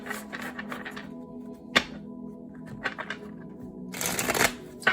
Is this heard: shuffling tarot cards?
yes